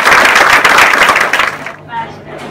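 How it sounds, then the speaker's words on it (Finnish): A burst of loud audience clapping at a Finnish coaches' conference, thinning out after a second and a half, followed by a voice and a few stray claps. "annetaan pienet aplodit"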